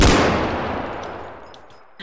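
A single loud gunshot blast from the video game Bodycam, with a long echoing decay, followed by a faint click and a second sharp sound at the end.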